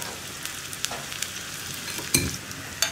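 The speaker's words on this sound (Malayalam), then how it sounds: "നമുക്കിതിലേക്ക് റൗണ്ടിൽ കട്ട് ചെയ്ത് വെച്ചിരിക്കുന്ന ഉള്ളി, നിങ്ങൾ ആദ്യം കടുക് ചേർക്കുക, അതിന് ശേഷം ഉള്ളി ചേർക്കുക." Onions and mustard seeds fry in hot oil for a potato and dried shrimp curry, giving a steady low sizzle with a few soft stirring scrapes and a louder burst near the end.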